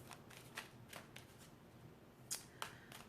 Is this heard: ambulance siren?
no